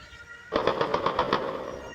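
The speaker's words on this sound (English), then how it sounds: "With gunfire ringing out near the National Palace" Automatic gunfire near Haiti's National Palace in news footage: a rapid string of about seven evenly spaced shots over roughly a second, moderately loud against a steady background hum, with the noise lingering afterward.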